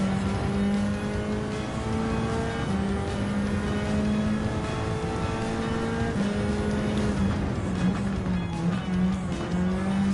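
A Group 4 race car roars continuously in Gran Turismo 7, the engine note rising and dropping through gear changes at full racing pace, loud and close throughout, with no talking.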